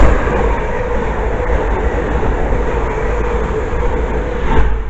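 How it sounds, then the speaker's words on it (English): A pair of London Northwestern Railway Class 350 electric trains pass through a station, giving a loud, steady rumble with wheel noise that holds for the whole stretch and swells slightly near the end. "The next train to pass by is going to be a pair of London North Western Railway Class 350s"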